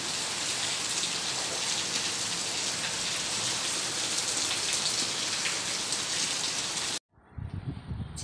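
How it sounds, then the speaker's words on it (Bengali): Heavy rain pours steadily outside a window at home, a dense, even hiss of drops on surfaces that cuts off abruptly near the end, leaving fainter background noise. "দেখো কি বৃষ্টি শুরু হয়ে গেছে"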